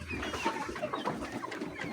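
Poultry in a feather-filled chicken house cluck and murmur continuously in a dense flock chorus, steady and moderately close, with scattered higher calls rising above it.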